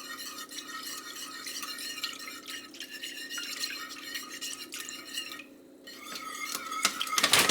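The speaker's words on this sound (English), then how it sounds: "Stir that up." A spoon stirs food in a crockpot, with repeated clinks and scrapes against the ceramic pot, wet sloshing, and a brief pause before busier, louder stirring at the end.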